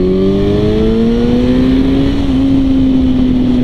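2006 Suzuki GSX-R1000 sport bike accelerating, its engine note climbing steadily in pitch, loud and close from the rider's seat with no talk.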